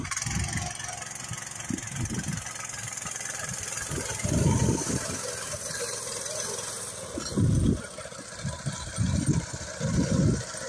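A homemade trike's engine runs steadily on a rural offroad track, with several louder throttle bursts rising and falling over the continuous motor noise. No one speaks.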